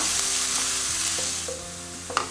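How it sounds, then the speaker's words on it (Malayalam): Crushed ginger, garlic and green chilli sauté in a hot pan for egg dum biryani, giving a steady loud sizzle with a few light scraping stirs and a small clink near the end, no voices. "ഇതിലേക്ക് ഞാൻ ഇഞ്ചി, വെളുത്തുള്ളി, പച്ചമുളക് ഇതൊന്ന് ക്രഷ് ചെയ്തെടുത്തത് ചേർത്ത് കൊടുക്കുകയാണ്."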